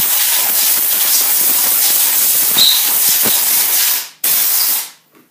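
Compressed air blasts sawdust out of a Klock chainsaw, a loud steady hiss running near-continuously for about four seconds, briefly cutting out, then resuming before tapering off.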